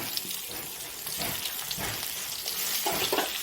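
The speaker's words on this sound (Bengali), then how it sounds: "এর মধ্যে আমি পেঁয়াজ কুচি দিয়ে দেবো।" Chopped onion hits hot oil tempered with dried red chillies, giving a steady crackling, watery sizzle with scattered pops throughout, moderately loud and close, with no talking.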